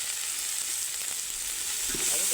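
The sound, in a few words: ginger garlic paste frying in a pan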